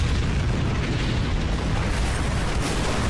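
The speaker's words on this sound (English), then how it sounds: "but was killed in the subsequent explosion." A loud, sustained explosive roar for a comedy sketch about rockets strapped to a wooden chair, a dense rumbling blast that stays at full force for a few seconds.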